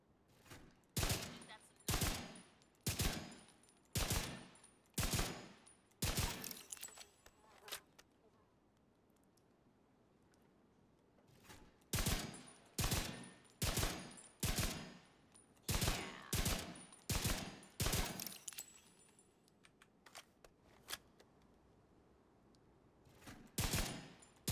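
A video game gun fires in several bursts of sharp, loud shots, each a quick string of reports. The bursts are separated by pauses, with a long quiet gap in the middle.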